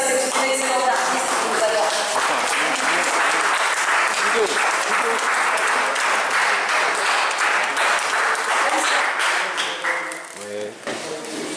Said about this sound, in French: on peut applaudir aussi parce que c'est une excellente artiste